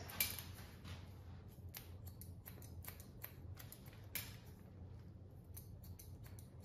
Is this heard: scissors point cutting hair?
yes